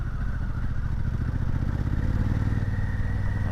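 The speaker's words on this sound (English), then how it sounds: "First time I've rode this bike any on gravel with that new tune in off-road mode." Motorcycle on a gravel forest road in the Nantahala National Forest, ridden in off-road mode with a new tune, a steady mid-pitched engine drone with rattling clatter, riding close and continuous.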